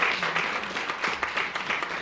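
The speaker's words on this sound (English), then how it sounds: "I think we ought to give her another round of applause" Light applause from a modest audience at a county freeholders' Women's History event, a thin patter of hands that carries steadily through about two seconds with no speech over it.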